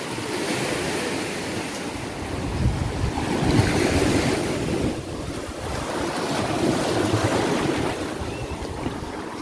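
Ocean waves break against the rocks at Ponta Negra beach in Natal, a steady close roar of surf rising and falling in surges, with wind buffeting the microphone and no talking.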